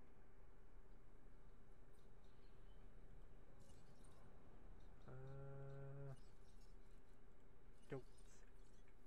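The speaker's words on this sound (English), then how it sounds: "Goats." A single goat bleat from the Jurassic World Evolution park-building game, a short wavering cry lasting about a second over a steady low background hum, followed later by a brief sharp click.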